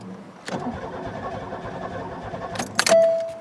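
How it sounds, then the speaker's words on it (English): A car that ran when parked but has a leaky fuel line cranks over steadily with a close, churning starter rattle, then catches and starts with a brief loud burst, accompanied by jangling keys. "I think we got a running car anyway."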